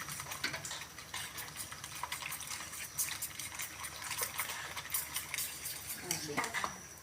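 Close, irregular knife taps and clicks as young climbing wattle (cha-om) shoots are cut against a board, with light kitchen clatter around them.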